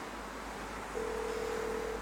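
A phone placing a call in GTA 5, heard as a single steady electronic ringback-style tone lasting about a second over low game background noise.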